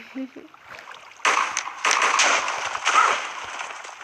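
A game explosion bursts out with a sharp crack, followed by further blasts and crackling rumble that swell and fade.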